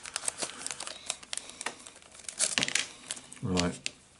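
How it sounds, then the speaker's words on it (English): Plastic bag crinkling as resin heads for a 1/35 scale MiniArt Kharkov Totenkopf Grenadiers figure kit are taken out, a close, uneven run of crackles and rustles with a louder crumpling burst near the end. "Sorry, I didn't think to take this out of the bag first, so I apologise for any noise."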